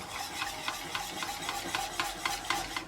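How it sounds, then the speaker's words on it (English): A whisk scrapes around a bowl of homemade natural deodorant mixture in steady, evenly spaced strokes, a soft rhythmic rasping that is close and moderately quiet, with no talking. "keep on giving it a whisk until everything is nice and smooth."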